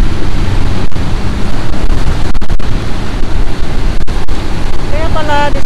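Large surf breaking at high tide along the California coast, a broad steady roar of crashing waves and wind buffeting the microphone, continuous and close throughout.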